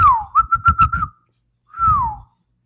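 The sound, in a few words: whistle blown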